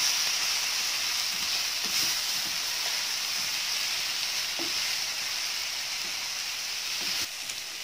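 Beef, onion, peas and potatoes fry in a pan with tomato paste, giving off a steady, even sizzle at close range, lightly punctuated by a few faint stirring taps and clicks, with no voices.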